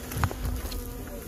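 Bees in a big hive inside a root cellar give off a faint, steady insect buzz. It carries a low hum and a few brief louder swells, with no talking.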